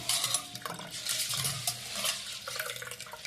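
Soaked pearl millet swished and stirred by hand in a vessel of water, with wet scraping and light clinks of the pot recurring in an uneven rhythm at close range, no voices.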